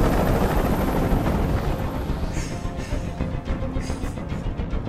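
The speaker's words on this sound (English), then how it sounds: "Tell that helicopter to get out of here." A video game helicopter in Detroit: Become Human hovers with a steady, loud rotor roar and dense broadband rumble that stays constant throughout, with faint crackling bursts near the end.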